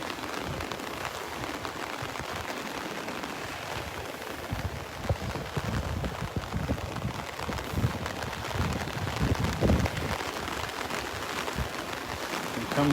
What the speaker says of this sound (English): You can hear it picking up on the umbrella, hitting the umbrella harder.